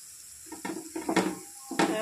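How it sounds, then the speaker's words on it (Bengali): Masoor dal fritters fry in oil over medium gas heat, with a soft sizzle broken by a few sharp clinks of a utensil against the pan, close up. "ভাজা বড়া সবসময় গ্যাসের হিটটা একদমই মিডিয়াম আঁচে দিয়ে ভাজতে লাগে"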